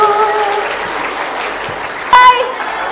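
Audience applause at a public speaking class, a dense burst of clapping that holds steady for about two seconds and then tapers, with a brief tonal sound near the end.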